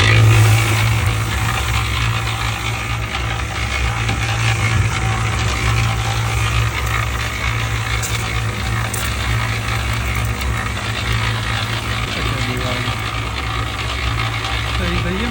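Machine tumbling garlic cloves with seed treatment, a steady loud mechanical rumble and rattling churn running continuously at close range, with a voice briefly heard over it.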